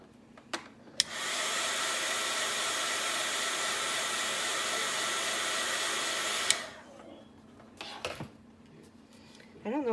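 A hair dryer blows on a handmade Easter card, a loud, steady rushing hiss lasting about five and a half seconds between clicks of switching on and off, with faint handling noises after.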